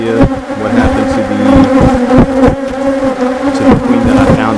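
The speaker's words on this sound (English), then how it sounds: "The bees are just all over the camera for some reason" Honeybees swarm around a camera at a beehive, a loud, continuous close-up buzz with individual bees droning past the lens.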